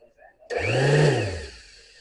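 An electric dual-action sander whirs up sharply from silence, hums steadily for about a second, then begins to wind down.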